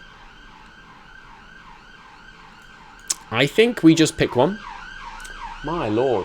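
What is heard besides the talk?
emergency vehicle siren outside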